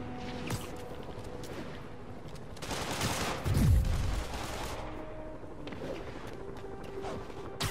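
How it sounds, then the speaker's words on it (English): Scattered gunfire rings out in Marvel's Spider-Man, a few distant sharp shots amid ongoing action noise, with a heavier booming impact around the middle. "I'm tired of motherfuckers shooting at me"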